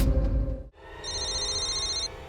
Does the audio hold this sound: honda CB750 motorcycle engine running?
no